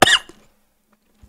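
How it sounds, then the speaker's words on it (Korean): A single short, sharp cough close to the microphone from a man with acid reflux, followed by near silence and a faint breath at the end. "요새 기침 많이 하는 게"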